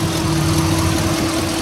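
A Chevy 350 small block V8 with headers and a custom exhaust, fitted in a 1947 Ford Custom four-door sedan, idles with a steady, dense low rumble close by, alone with no talk.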